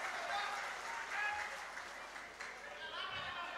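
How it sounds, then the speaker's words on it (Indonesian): Audience applause for Dr. Yusuf SK at a gubernatorial candidates' debate, a steady, sustained clapping from a crowd filling the room, at moderate distance with no break. "kita berikan aplaus untuk Bapak Dr."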